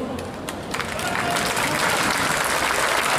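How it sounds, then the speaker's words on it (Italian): Dense crowd applause at an Italian Air Force association rally parade welcoming the fanfare band, continuous and fairly loud, with some crowd murmur and voices mixed in. "Siamo pronti ad accogliervi con un grosso applauso."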